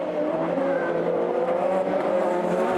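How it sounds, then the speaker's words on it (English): IndyCar race cars at Detroit running on rain tires in wet conditions, a loud close engine whine with rising harmonic tones as the cars accelerate past, steady throughout. "Look at Daly pull away from Hunter-Reay."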